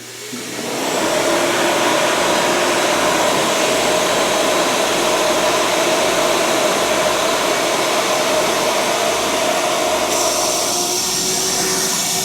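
Dewalt and Ridgid shop vacuums run together at full power, a loud steady broadband whoosh and whine that holds without a break for the whole stretch, with no voices over it.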